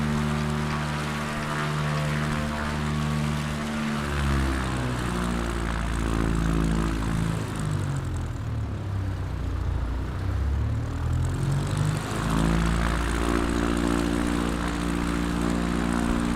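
Propeller airplane engine droning steadily in the Alaska bush, loud and close throughout, its pitch sweeping down and back up as throttle changes, with no voices.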